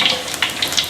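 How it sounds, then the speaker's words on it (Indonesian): Eggs fry in hot oil in a pan, giving an uneven close sizzle with short crackling bursts and spits over a second, heard alone without talk. "seperti ini saja saya goreng ndoge ya."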